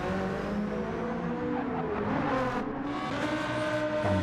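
A Porsche race car in a sim racing game at the Nürburgring Nordschleife holds a steady, loud engine drone with shifting pitch as it revs, with no voices over it.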